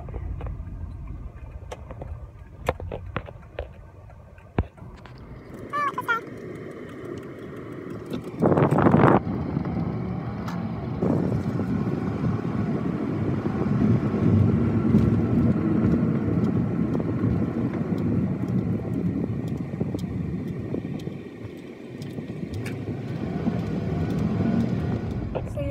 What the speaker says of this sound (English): I'm driving my way if you can't tell